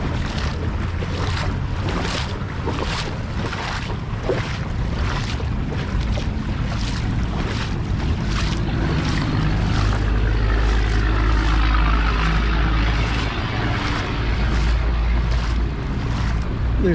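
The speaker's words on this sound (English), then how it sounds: "with the walls, the concrete walls and the water and concrete below me, everything just echoes so bad in here" Water rushes steadily through a concrete urban creek tunnel, the hard walls and floor making the flow boom and echo continuously, loud and close, with no talking.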